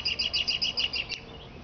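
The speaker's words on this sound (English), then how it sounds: "You hear the bird? Bird. That's a bird." Outdoors, a bird gives a quick run of high, repeated chirps, about eight evenly spaced notes in a second, then falls quiet over soft background hiss.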